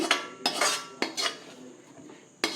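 Sautéed cabbage is stirred into thick adai batter in a metal vessel, with a few sharp spoon clinks and scraping strokes separated by short pauses, fairly quiet and close.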